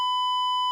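A censor bleep covers a spoken word on a talk show: one steady, pure electronic tone lasting under a second, loud and clean with no voices around it.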